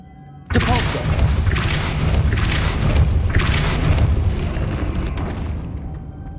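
Depulso force spell in Hogwarts Legacy, a sudden loud magical boom and whooshing burst that swells with rumbling thumps and crackles, then fades over several seconds.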